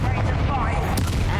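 Blasting spell Confringo cast in the magic-school game Hogwarts Legacy: a single loud, rumbling boom that fills the short moment, with a sharp crack near the end and a voice in the background.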